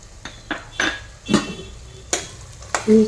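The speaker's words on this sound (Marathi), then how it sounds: "छान असं परतून घ्यायचंय आपल्याला भाज्या" Vegetables—green beans, capsicum and carrot—being stir-fried in a pan for a veg pulao, with a metal spatula scraping and clinking against the pan in separate strokes, near and fairly loud, without talk.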